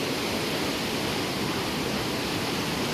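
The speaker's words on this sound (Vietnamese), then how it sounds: "nghe cái tiếng sóng biển như bạn cứ rì rào suốt cả ngày vậy" Sea waves wash onto the beach at Bai Sau in Vung Tau on a misty morning, a steady, loud, unbroken roar of surf with no voices.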